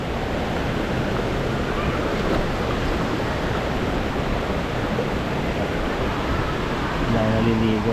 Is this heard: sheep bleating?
no